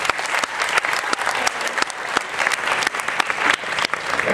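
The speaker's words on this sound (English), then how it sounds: "So let's give him a round of applause." An audience at a town hall meeting breaks into steady, sustained clapping, a dense crowd of hands applauding continuously at close range with no voices on top.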